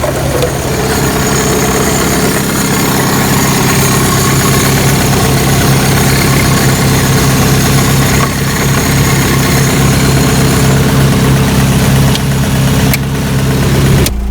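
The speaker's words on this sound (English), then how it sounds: "It's been idling for about 10 minutes." A 1985 Toyota pickup truck engine idles steadily and loudly with a constant low rumble and vibration, no voices.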